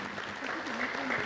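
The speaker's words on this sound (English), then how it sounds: "People, let's give her a thunderous hand clap." Brief burst of audience clapping at an award ceremony during a reading conference, with a voice speaking over it throughout.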